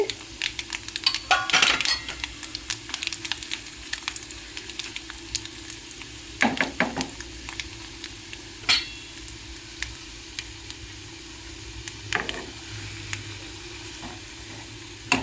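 Oil sizzling steadily in a pan as tempering spices and lentils fry for mango chutney, with a few louder crackles and metal clinks of stirring, no talking.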